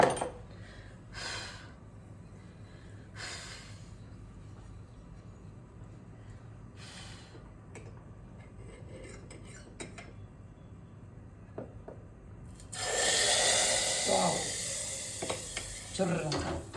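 Hot tempering poured into a bottle of mango pickle, a sudden loud crackling sizzle bursting out after a long quiet stretch of faint handling clicks, then fizzing on with sharp pops.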